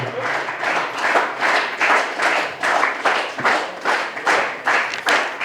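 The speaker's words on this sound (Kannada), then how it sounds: "ದಯವಿಟ್ಟು ಆ ವೀರ ಯೋಧನಿಗೆ ಜೋರಾದ ಚಪ್ಪಾಳೆ ತಟ್ಟುವುದರ ಮೂಲಕ ಆತನಿಗೆ ಅಭಿನಂದಿಸೋಣ" Loud, sustained applause from a large audience honoring a soldier newly selected as an Agniveer army recruit, with dense clapping rising and falling in steady waves throughout.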